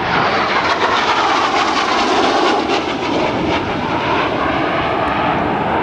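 A loud, continuous jet roar from an AV-8B Harrier II sweeps past at high speed at an airshow, a sustained rushing engine blast filling the whole stretch.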